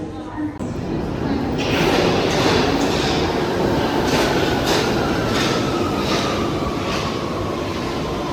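A London Underground train roars into an underground station, its loud rumble and rhythmic wheel clatter building and staying heavy, with a faint wheel squeal.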